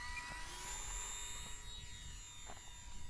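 A small RC P-51 Mustang model plane with AS3X stabilization whines steadily as its electric motor pitches up at takeoff, a thin high buzz heard at moderate distance in the wind.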